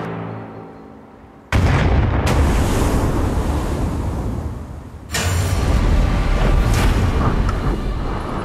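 A replica Hunley torpedo packed with 135 pounds of black powder detonates underwater with a sudden loud blast, followed by a roaring wash of turbulent water and a second surging burst of spray.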